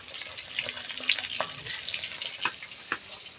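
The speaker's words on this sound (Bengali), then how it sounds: "এই যে তেলাপিয়া মাছ ভাজছি" Tilapia fish frying in hot oil, a close, continuous crackling sizzle with sharp spits and pops scattered through it and brief clinks from the pan, no voices.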